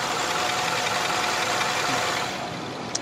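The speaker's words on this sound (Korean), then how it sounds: "엔진 소음 먼저 들려드리면은," An imported SUV with a 2.5-litre gasoline engine and about 10,000 km on it idles with a steady, even hum and faint vibration, heard continuously at close range with no talking.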